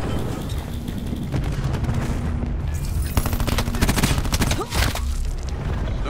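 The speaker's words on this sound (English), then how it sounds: "Throwing cluster grenade." Grenade explosions and heavy gunfire from a Black Ops 4 multiplayer match form a dense, loud, continuous barrage of booms and rapid shots with no pause.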